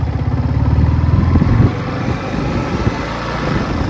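A motorcycle engine runs close by, loud and steady, then eases off as the bike slows and rolls over a speed bump before it idles and pulls on.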